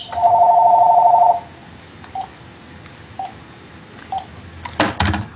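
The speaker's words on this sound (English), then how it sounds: "there's another phone ringing here." A telephone ringing during a fitness Q&A, a loud steady electronic tone for about a second followed by several short faint beeps and a few clatters as the phone is handled and shut off.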